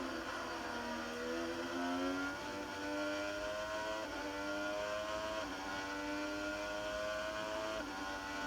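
Race car engines in a video game race, a continuous droning whine with repeated rising pitch sweeps as engines accelerate and shift through gears, steady and moderately loud without talking.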